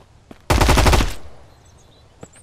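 A rapid burst of automatic gunfire in the Mist Survival video game rattles loud and close for about half a second-plus, then trails off into a fading echo, with a faint single click before and after.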